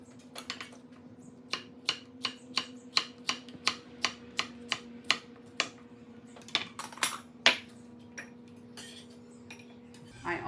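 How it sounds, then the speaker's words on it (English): Knife chopping cucumber into small strips on a cutting board, a steady run of crisp, evenly spaced taps close up, loosening into a few irregular chops near the end. "So I'm just cutting these into smaller"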